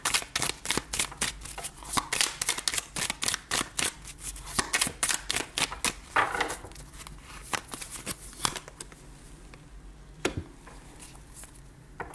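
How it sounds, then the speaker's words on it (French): Tarot cards shuffled and drawn by hand, a quick run of crisp flicking riffles and soft slaps, close and fairly quiet, easing to a few sparse card snaps near the end. "Je vais juste retirer une petite carte quand même."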